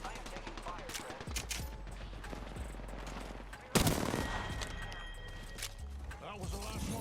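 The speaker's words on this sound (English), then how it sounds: "Opening fire on the enemy. Taking fire, brothers." Gunfire in Apex Legends sounds throughout as scattered shots and bursts under game effects and speech, with one sharp, loud impact partway through.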